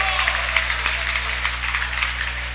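Crowd noise at a boys' high school basketball game, Chaska vs. Edina, reacting to a blocked shot: a steady roar of cheering with scattered claps, loud and continuous throughout.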